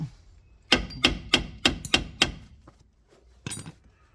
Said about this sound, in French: vous glissez le triangle et vous tapez au marteau en dessous